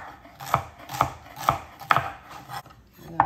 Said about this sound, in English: next I'm going to chop up me some celery and onion to go in there